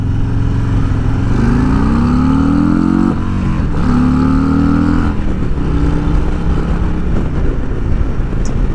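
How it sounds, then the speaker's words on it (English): A Harley-Davidson Road Glide Special engine revs hard, climbing in pitch twice and bouncing off the rev limiter, then settling into a loud, rough idle. Close and continuous. "I did hit the rev limiter again"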